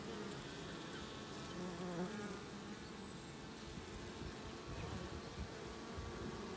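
Honeybees buzz steadily inside a hive, a dense, continuous drone of many wings close by, even in loudness throughout with no voices.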